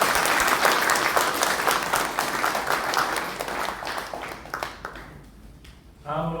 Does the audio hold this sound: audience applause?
yes